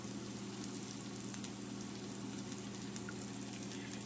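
Butter sizzling in a pan while making smoky butter chicken, a steady dense frying crackle with faint hum beneath, no talk.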